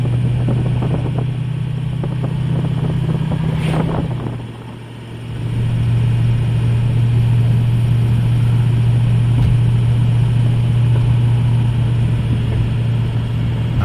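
A Ford F350 with a 6.0 Powerstroke diesel and a 5R110W transmission drones steadily from inside the cab, dipping briefly near four seconds as it shifts before settling back into an even, loud hum.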